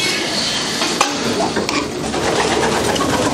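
Pigeons coo inside a pigeon loft, soft low murmuring calls mixed with faint scuffling and rustling, continuous and close, with no speech.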